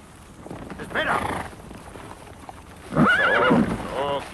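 Two loud horse whinnies, one near the start and a stronger one toward the end, over a steady outdoor background.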